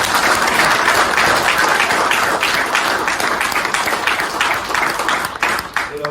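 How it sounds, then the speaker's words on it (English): Audience applause at a philanthropy legacy event honouring a book on Sir Charles Mitchell, a dense, steady burst of many hands clapping close up and loud for the full stretch, tapering slightly at the very end. "Please give him a round of applause."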